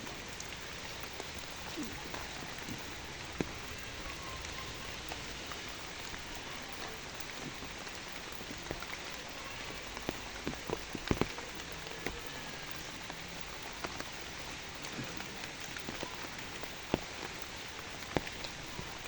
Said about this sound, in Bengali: প্রচুর বৃষ্টি হচ্ছে, ছাতি দিয়ে ভিডিওটা করতেছি